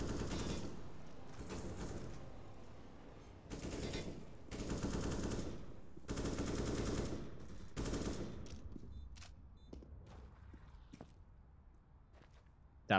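Counter-Strike match on the Overpass map with long bursts of automatic rifle fire, several sustained volleys in a row, followed by scattered single shots and footsteps that fade to quieter action near the end.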